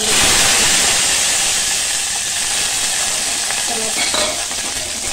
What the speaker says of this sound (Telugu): వన్ టీ స్పూన్ ఆయిల్ వేస్తున్నా. దీంట్లోనే పచ్చిమిర్చి ఇందాక నేను కడిగి పెట్టుకున్నాను కదా,